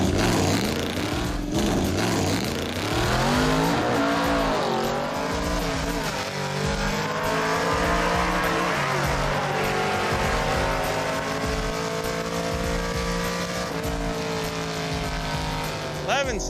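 A 1971 Chevy Suburban on a drag strip pass, its V8 revving and bogging off the line before pulling hard through the gears in rising, loud engine sweeps, with an announcer talking over it.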